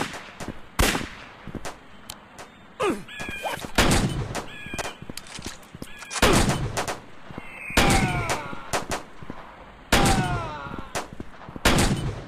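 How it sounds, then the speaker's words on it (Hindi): Video game gunfire in a firefight with bandits: sharp, loud single shots and short bursts scattered across the stretch, separated by brief gaps with ringing tails. "तो सामने ही है ये, तो गोलियाँ चलने लगी"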